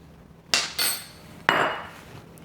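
Butter and soy sauce are stirred in a bowl, with two distinct clinks of a utensil striking the side, each trailing into a brief scraping rattle.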